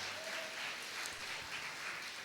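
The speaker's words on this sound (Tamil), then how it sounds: "கைத்தட்டி கர்த்தரை சோத்துறீங்க" A church congregation claps hands together during a live Sunday service, a steady, even wash of applause lasting a couple of seconds with no clear speech over it.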